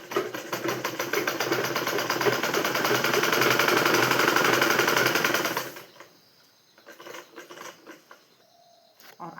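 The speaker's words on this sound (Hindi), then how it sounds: "और अब मैं जेब को ऐसे करूँगी और इस पे मारूँगी सिलाई" A sewing machine stitching a pocket onto palazzo pants runs in a fast, steady whirring rattle for about six seconds, then stops, leaving quiet handling clicks.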